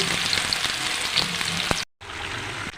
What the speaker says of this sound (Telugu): మొత్తం ఉల్లిపాయలు, పచ్చిమిర్చి వేసుకొని వేపుకోవాలండి.